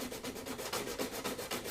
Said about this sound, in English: take a sanding block and sand that high spot down from the mold line that runs through the dash here